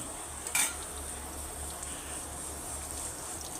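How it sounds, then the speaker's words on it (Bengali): Chop fritters frying slowly in oil on a medium flame, a soft, steady sizzle with a brief clatter of a utensil near the start, quiet and continuous with no talk. "ভাজতে হবে কিন্তু খুব আস্তে আস্তে মিডিয়াম জালে ভাজতে হবে"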